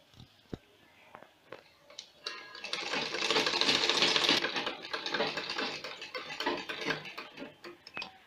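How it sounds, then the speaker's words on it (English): A sewing machine stitches the base of a flower-design sleeve, a steady close mechanical whir lasting several seconds that builds and then eases off, with scattered clicks before and after. "the sewing has been done, starting from the base."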